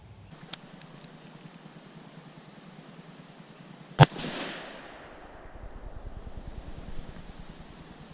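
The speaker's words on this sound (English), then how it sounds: "I think I shot right in front of him." A single sharp gunshot cracks out across a swamp at a beaver and is followed by a brief rolling echo, with faint outdoor ambience and a small tap earlier on.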